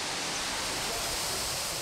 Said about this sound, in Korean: 성인봉 아랫자락에 위치한 복내폭포는 25m의 높이에서 3단으로 떨어져 내리는 폭포수가 일품입니다.